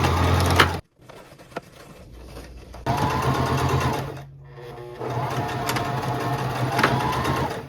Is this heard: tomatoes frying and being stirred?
no